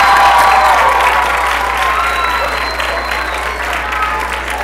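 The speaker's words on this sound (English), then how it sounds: "big round of applause for the" Loud applause and cheering from the crowd at a high school holiday concert: dense clapping mixed with shouts and whoops, sustained and close throughout, over a low steady hum.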